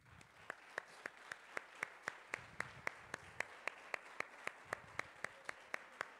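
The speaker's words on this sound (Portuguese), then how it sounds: "aplaude a Jesus" Congregation applauding during a family church service, steady rhythmic claps roughly four per second, fairly faint and even throughout with no talk over them.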